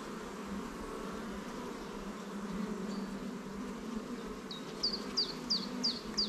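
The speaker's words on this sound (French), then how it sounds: "Et je vois une abeille qui fait la danse." Honeybees buzz steadily on a hive frame, a soft, dense drone heard close, with a few short higher chirps near the end.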